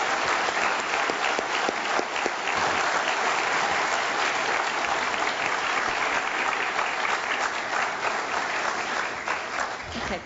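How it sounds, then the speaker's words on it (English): A university address audience gives a round of applause for a corporate sponsor, producing a sustained, even wash of clapping across the hall that eases slightly toward the end, with no speech over it. "If we can give them a quick round of applause."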